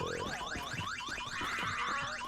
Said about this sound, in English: How long does the alarm continue to go for?